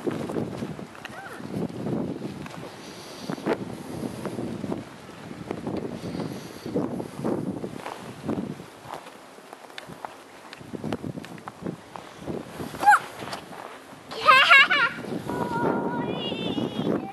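Wind gusts outdoors while snow blows, rumbling buffeting noise across the microphone with intermittent footsteps and children and adults talking nearby.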